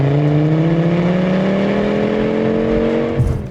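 An old, heavy Volvo with a 2.3 litre turbo inline-five is held at full throttle, its engine note climbing slowly and steadily in pitch over a few seconds, loud and close, then easing off at the end.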